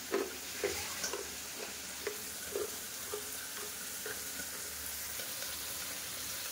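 Bori, small lentil dumplings, frying in a pan at home, a steady faint sizzle with soft repeated stirring clicks spread evenly throughout and no one talking.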